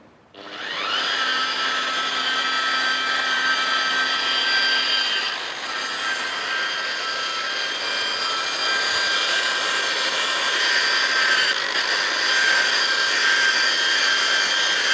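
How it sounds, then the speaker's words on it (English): A buffing machine polishes wood veneer coated in gritty rubbing compound, giving a steady, loud high-pitched whine that holds unbroken throughout, with a slight dip in pitch partway through. "using the buffing machine we can buff the piece down"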